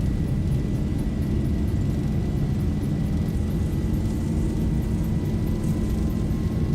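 Boeing 737-800 accelerating down the runway on its takeoff roll in X-Plane 11, a steady, loud jet engine roar with heavy low rumble that holds constant throughout, with no voices.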